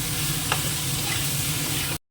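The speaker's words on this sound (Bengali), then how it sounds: "এঁচড়টা একটু লাল করে ভালো করে ভেজে নিচ্ছি" Green jackfruit fries in hot oil while being stirred, a dense close sizzle with a scrape or two, cutting off abruptly near the end.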